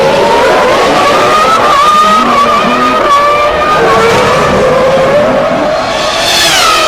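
A Formula 1 car at 2001 Monaco Grand Prix qualifying, its engine note sweeping and shifting pitch as it passes at close range, loud and continuous with no talk.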